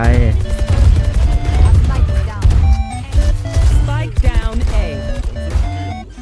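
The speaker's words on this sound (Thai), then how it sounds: "ยิงเข้าไป" Rapid gunfire from the game Valorant crackles in loud bursts and single shots, with voices talking excitedly over the shooting throughout.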